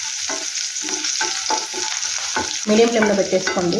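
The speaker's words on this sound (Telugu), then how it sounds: "వెల్లుల్లి బాగా వేగిపోయాయి, కలర్ చేంజ్ అవుతున్నాయి కదండి" Garlic fries in oil in a pan with a steady sizzle and stirring scrapes, the frying growing louder and busier near the end, while a voice speaks briefly over it.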